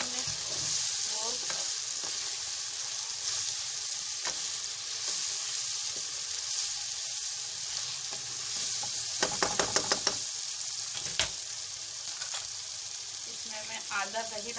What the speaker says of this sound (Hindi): भून गई है ये लहसुन अदरक के साथ